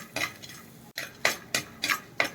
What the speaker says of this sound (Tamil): கட்டி பெருங்காயம் இதை நல்லா வறுத்து போட்டுக்கோங்க